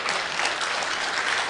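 A crowd applauds steadily, dense clapping filling the room at an even, fairly loud level throughout.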